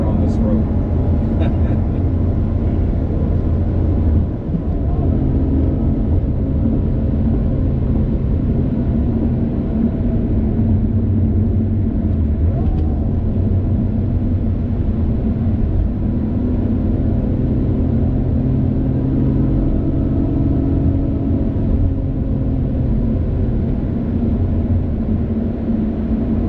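A 2020 Lotus Evora GT at high speed on a city road between Brooklyn and Queens, heard from inside as a loud, constant low engine drone and road rumble that barely changes for the whole stretch.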